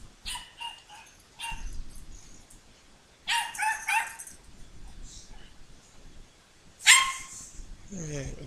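A dog barks in sharp, loud bursts, with yips and brief whimpers between them, and a final cluster of barks near the end.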